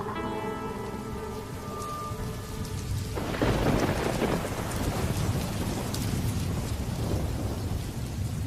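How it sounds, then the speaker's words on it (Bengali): Steady rain falls outside at night while thunder rumbles and cracks, swelling loudly partway through and then rolling on under continuous downpour, with no voices. "বাইরের বৃষ্টি তখনও থামেনি।"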